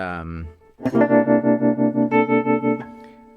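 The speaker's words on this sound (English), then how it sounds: "Let's take a tremolo effect, something like this." An electric guitar sustains a chord with a pulsing tremolo effect, the volume throbbing in an even rapid rhythm, after a brief sung or spoken note at the start.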